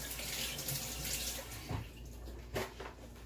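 Water runs from a kitchen tap as something is rinsed under it, a close steady rush with a couple of short splashes and no talking.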